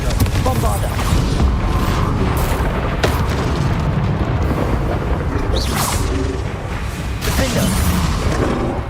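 In Hogwarts Legacy, Confringo and Bombarda spell blasts go off in repeated heavy booms and whooshing explosions, dense and loud, with a voice calling out throughout.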